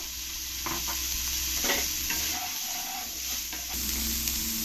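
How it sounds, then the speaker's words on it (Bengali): Soybean chunks fry in a pan with salt and a pinch of turmeric, a steady close sizzle with scraping stirs of a utensil throughout. "এবার আমি এই সয়াবিনগুলো একটু ভালো করে ভেজে নেব"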